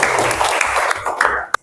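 Classroom applause from a group of students, a brief burst of clapping that fills the room and stops abruptly with a sharp final clap.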